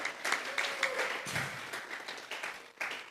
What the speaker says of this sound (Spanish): Regálele fuerte esas palmas al Dios de la gloria.